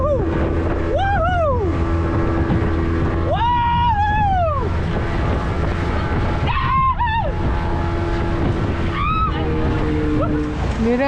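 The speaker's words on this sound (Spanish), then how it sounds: "Mirá, Lisana, filmá cómo empujan la lancha." Motorboat being pushed through the surf off a secret beach in the Dominican Republic: steady wash of waves and engine hum throughout, with shouted, rising voices of the people pushing breaking in repeatedly.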